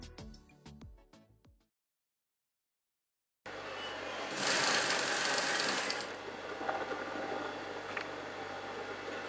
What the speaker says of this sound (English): So I'll take it to my sewing machine now